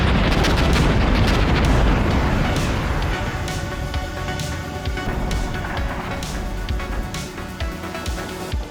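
Russian artillery fire in the video game Armored Brigade II, a loud dense barrage of booming blasts and rumbling explosions that overlap continuously, heaviest at the start and then settling into a sustained roll of impacts.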